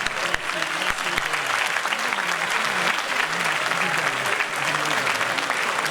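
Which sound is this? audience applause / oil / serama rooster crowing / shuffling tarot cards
audience applause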